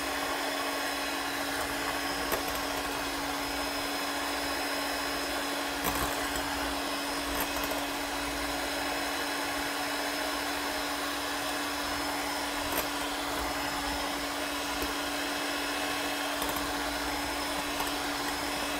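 An electric mixer whips eggs while a cupcake batter is being made, giving a continuous steady motor whine that holds an even, close, loud level from start to end with no talking.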